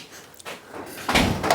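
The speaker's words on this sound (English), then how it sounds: "Just shut the door, hang on a minute." A door in a house is pushed shut with a soft thud and rattle near the end, after quiet room shuffling.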